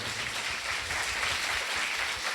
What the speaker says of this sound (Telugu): గట్టిగా చప్పట్లు కొడదాం ప్రియ సహోదరులు.